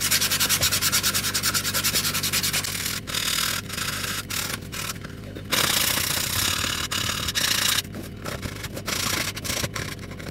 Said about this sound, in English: That's why I sand it in between coats, so that it becomes silky.